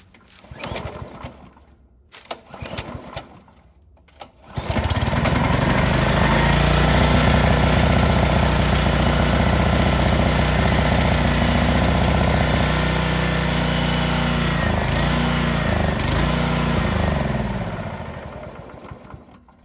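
Honda HR215 lawn mower engine catching after a cold start on starter fluid and running loud and steady close by, preceded by a few quieter starting noises, with its pitch wavering slightly before the level eases off near the end.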